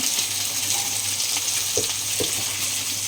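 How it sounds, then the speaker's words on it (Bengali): Fish frying in a pan of oil beside a simmering fish-head curry: a constant loud sizzle and spatter fills the kitchen, with a couple of faint knocks and no talking. "এদিকে মাছ ভাজছি"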